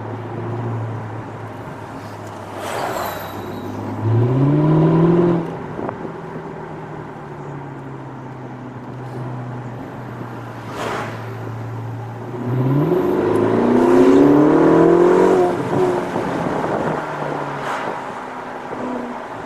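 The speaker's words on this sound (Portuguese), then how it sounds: "Ferrari conversível em Maranello." A Ferrari convertible passing in Maranello, its engine rising in two loud revving sweeps that climb in pitch, with a steady low hum between them and some wind noise.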